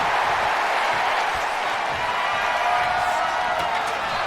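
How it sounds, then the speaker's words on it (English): An arena crowd at a WWE 2K25 wrestling match cheers in a loud, continuous wash of noise, with no single voice standing out. "Listen to this crowd."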